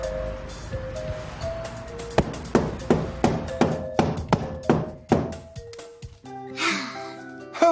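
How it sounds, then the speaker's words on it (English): Sharp hammer blows driving in a nail to hang a wall calendar, about eight evenly spaced strikes, close and loud, followed by a short scrape and quiet. "Who is hammering?"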